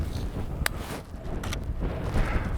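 Wind gusting around a castle at sunrise, a steady low rumble with buffeting against the microphone and a few brief brighter bursts.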